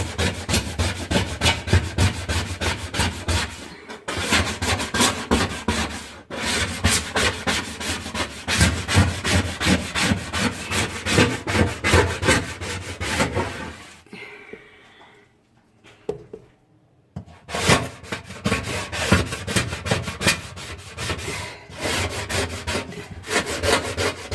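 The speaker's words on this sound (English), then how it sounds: "I use my scraper. Scrape it all off." A professional cleaner drags a scraper over a surface to strip off residue, producing loud, continuous rasping strokes in close succession, with a short pause near the end before scraping resumes.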